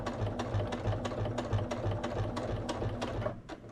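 A sewing machine stitches a short back stitch along a fabric edge, a steady, close, rapid mechanical whir with rhythmic needle thumps running throughout, alone without talk.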